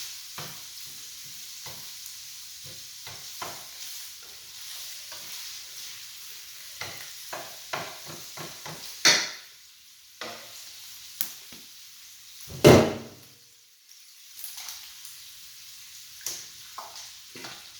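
Sun-dried tomatoes stirred in a hot pan, a soft steady sizzle of frying broken by scraping stirs and a few louder clanks of utensil on pan, no talking.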